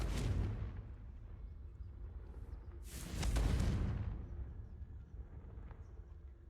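Confringo fire spell in Hogwarts Legacy: two loud booming explosive bursts, one at the start and a bigger one a few seconds later, with a rumbling low tail over quiet game ambience.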